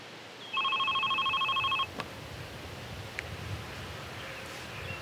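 A telephone rings once in a short burst of rapid trilling electronic pulses, loud and close, then stops, leaving a quiet room with faint rustling.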